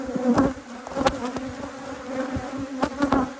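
Honeybees swarm and buzz around an open beehive during a hive inspection, a close, steady droning hum with individual bees whizzing past the microphone.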